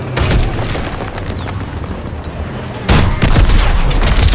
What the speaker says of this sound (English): Rocket launcher! Good! Now hit that Panzer!